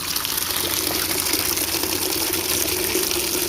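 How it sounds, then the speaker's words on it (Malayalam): Water runs from the tap of a homemade water filter in a loud, steady, unbroken stream, close to the microphone and alone. "നമുക്ക് ഈ ടാപ്പ് ഓപ്പൺ ചെയ്യാം. ആദ്യം ഓപ്പൺ ചെയ്യുമ്പോൾ തന്നെ നിങ്ങൾക്ക് കാണാം വെള്ളം"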